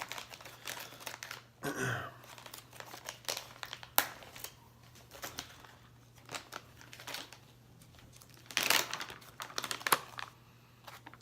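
A plastic beef jerky package is ripped open, with scattered close crinkling and tearing bursts and a few louder rips over about eleven seconds, no speech.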